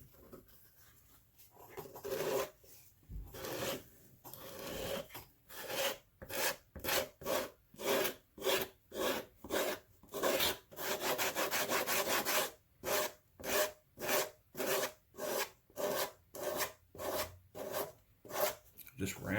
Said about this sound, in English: Now I'm just going to hit these up with that sandpaper.